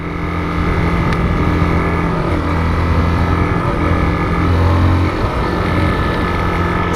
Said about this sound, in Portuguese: Essa moto tem um barulho estranho de motor